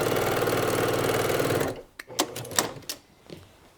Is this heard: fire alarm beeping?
no